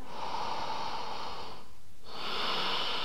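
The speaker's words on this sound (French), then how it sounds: "Respirez par le ventre. Respiration abdominale." Slow abdominal breathing during a vinyasa yoga class: a long, airy breath close to the mic, a short pause, then another breath, with no talking.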